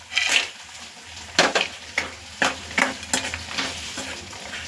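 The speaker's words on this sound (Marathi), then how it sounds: "आता आपण जे हे सांडगे फ्राय केले होते ते ह्यामध्ये ॲड करू" Fried sandge (sun-dried lentil dumplings) are stirred into a sizzling masala that has been cooked until the oil separates. A steady frying hiss runs under a series of sharp spoon scrapes against the pan, with no talking.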